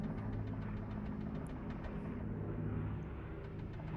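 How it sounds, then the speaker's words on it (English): A faint, low droning hum of airplanes passing overhead, steady and distant, with no voices present. "There's planes. Planes going overhead."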